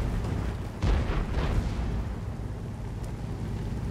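A Centurion Mk. 7/1 tank gun fires in World of Tanks, one heavy booming blast near the start that rumbles and fades into a low battlefield drone.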